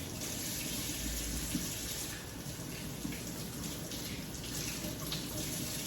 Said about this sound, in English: So we are washing our hands